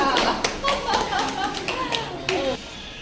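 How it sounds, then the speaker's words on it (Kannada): A group of children clapping together for the winner of a party game, a brisk burst of rapid hand claps close by, with children's voices talking over it. "ಚಪ್ಪಾಳೆ"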